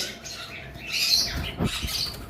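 Sun conure parrots, DNA-sexed bonded pairs, give sharp squawking calls and chirps at close range. Bursts rise and fall over a couple of seconds against a quiet background.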